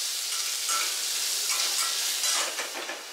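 Onions frying in a home kitchen pan, giving a steady bright sizzle and hiss with small crackles, close and continuous without speech.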